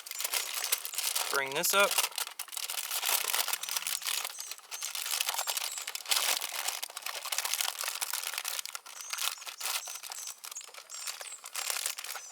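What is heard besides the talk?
aluminium foil being folded and crinkled around a meal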